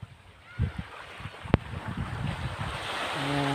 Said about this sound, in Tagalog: dito tayo ngayon sa dagat